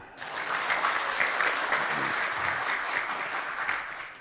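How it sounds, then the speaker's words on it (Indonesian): An audience at a comedic religious talk by KH Anwar Zahid claps steadily for several seconds, dense even applause at moderate loudness with no clear voices over it. "Tepuk tangan"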